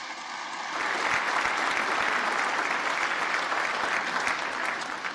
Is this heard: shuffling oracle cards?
no